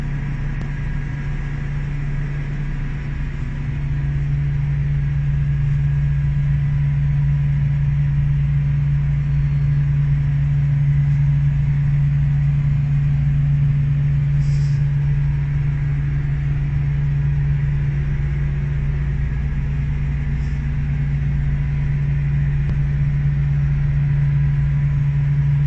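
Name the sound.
pneumatic blower discharging cement on self-unloading cargo vessel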